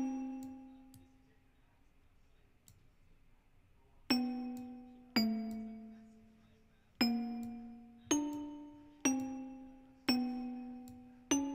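A bells instrument preset in FL Studio sounds chords: after a first soft chime and a quiet pause, a run of bright, ringing bell chords strikes about once a second, each decaying cleanly, with no talking.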